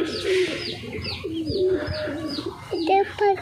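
Pigeons cooing close by, a run of soft low throaty coos repeating in quick succession, with faint background noise and no clear speech.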